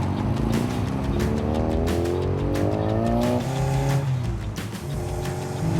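A vintage Mini drives off down the road, its small engine droning loudly and climbing through gears with wavering pitch under steady road noise.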